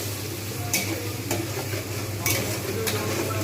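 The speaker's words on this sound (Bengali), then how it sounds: "ধনে গুঁড়ো জিরে গুঁড়ো আদা রসুন গরম মশলা লবণ চিনি সব যেগুলো মশলাটা আমি রেখে এবং সেগুলোকে ভালো করে কষিয়ে নেব" Ground spices such as coriander, cumin and garam masala with ginger and garlic sizzle in a hot pan while a utensil stirs them, the steady frying broken by several sharp scraping strokes.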